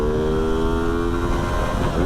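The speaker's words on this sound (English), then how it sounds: "let's see if I can show you what I was saying about the rev limiter." Loud, sustained engine note from a 2019 Ducati Multistrada 950S motorcycle held high at the rev limiter, a steady buzzing drone with slight pulsing throughout and no talk.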